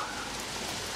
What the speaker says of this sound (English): It's absolutely chucking it down again.